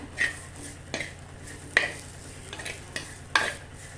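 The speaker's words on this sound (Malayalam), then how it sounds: "വെളുത്തുള്ളി, ഇഞ്ചി ഇട്ട് കൊടുക്കുകയാണ്" Chopped garlic and ginger go into a hot pan for a Kerala-style anchovy coconut curry, giving a soft sizzle with several sharp stirring scrapes and clinks of a spoon against the pan, fairly quiet and without talk.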